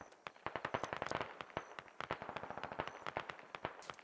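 Grenade launcher fire and other weapons in a Squad battle: a dense, rapid string of sharp cracking pops and thuds, uneven in rhythm and fairly distant, with no talk.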